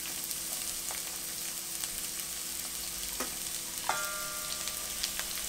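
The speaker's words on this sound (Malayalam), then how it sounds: "ഇത് റൈസ് ബ്രാൻ ഓയിലാണ്, ഇപ്രാവശ്യം ഞങ്ങൾക്ക് റൈസ് ബ്രാൻ ഓയിലാണ് കിട്ടിയത്. അപ്പൊ റൈസ് ബ്രാൻ ഓയിലാണ് ഞാൻ ഇട്ടേ. അതിലോട്ട് നമ്മുടെ സവാള ഇടാം" Onions fry in rice bran oil, a quiet steady sizzle with occasional clinks and scrapes of a utensil against the pan, no talking.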